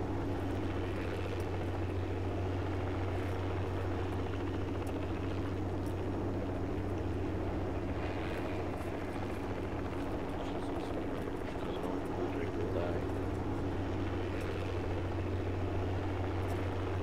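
Helicopter rotor and engine drone inside the Project Reality military game, a steady low hum running unbroken throughout at moderate level, with no clear voices on top.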